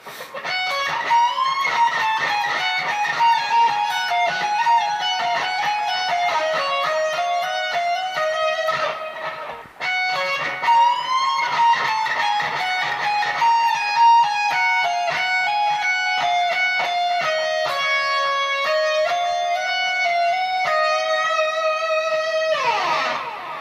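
A slow electric guitar phrase from a song's solo played twice, with deliberate picked notes and sustained bends, clear and unaccompanied.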